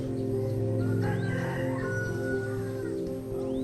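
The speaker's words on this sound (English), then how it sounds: "first the rooster crows," A rooster in a Southeast Asian farming village in Vietnam crows once in a clear, drawn-out call over a constant mechanical hum and light background clucking.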